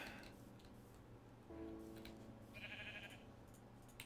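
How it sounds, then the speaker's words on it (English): Minecraft sheep bleats in a game scene, a wavering tonal call starting midway and fading, followed by a higher brief bleat, over steady low background game ambience with ticking. "Sheep!"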